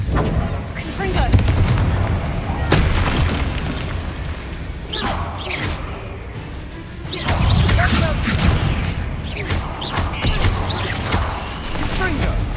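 Confringo blasting spells in Hogwarts Legacy: several booming, crashing explosions in irregular succession, loud and close, with rumbling debris and scattered impacts between blasts, and a voice calling out under the action.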